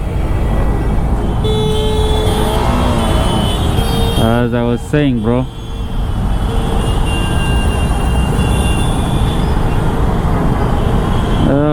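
Busy Bangalore road traffic recorded while riding, with a steady engine and road roar throughout and a short burst of car horn toots in the middle, under someone talking close to the microphone.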